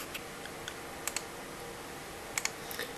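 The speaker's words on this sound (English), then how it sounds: "I will type in my password" A password being typed on a computer keyboard, with a few sparse, quiet key clicks, some in quick pairs, over a faint steady background hiss.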